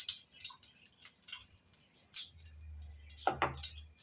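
Milma ghee poured into a heating pan before frying ghee-fried banana fritters (pazham pori), with faint drips and soft splashes and a short, louder pouring burst near the end over a low kitchen hum.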